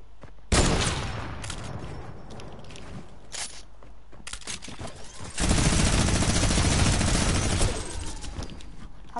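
Video game gunfire shot through a hole in a wall: a sharp loud burst opens, scattered cracks follow, then a long, dense, sustained volley of rapid shots before it thins out again.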